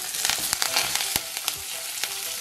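Curry leaves hit hot oil already tempered with cinnamon, cloves and cardamom, giving a close, steady sizzle with sharp crackles and pops spread across the moment.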